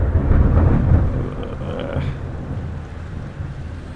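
A returning nighttime thunderstorm rumbles in a deep, loud roll of thunder that swells early and then fades into a lower, steady murmur of wind and rain.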